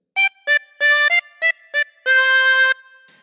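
A harmonica plays a single phrase of the children's tune This Old Man as a short run of clear, separate blown and drawn notes that ends on one longer held note, solo and close up.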